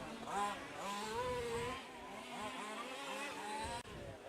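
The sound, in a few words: 1/5 scale RC short course trucks racing in practice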